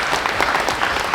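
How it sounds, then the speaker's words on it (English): A meeting crowd applauds the Splash RV venue with brief, dense, loud clapping that stays steady for the whole moment. "Let's give a round of applause for Splash RV for hosting us here."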